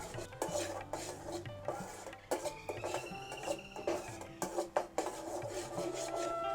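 A spoon stirs caramel in a pan continuously, scraping and clinking against the metal in a steady, close, fairly loud rhythm with no talking.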